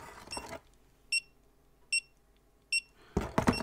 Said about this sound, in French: Vous pouvez faire sonner l'appareil.